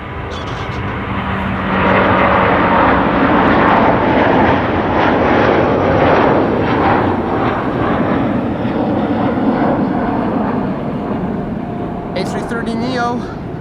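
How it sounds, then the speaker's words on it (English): A Delta Air Lines Airbus A330neo takes off at Amsterdam Schiphol, its loud jet roar swelling within the first seconds and then holding as a broad, sustained rush, with a voice talking over it. "There's a Delta that is now taking off from the runway crossing."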